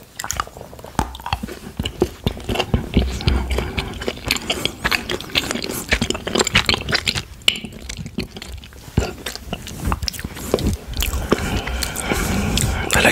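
Close-up eating of a Lindt Excellence chili dark chocolate bar, with crisp bites, snaps and wet chewing in an irregular rhythm, loud and intimate with no talking.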